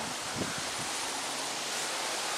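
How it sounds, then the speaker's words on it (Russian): Steady broadband wind noise blowing across the microphone, with a faint low thump near the start and no voices. "Ба, ветер поднялся."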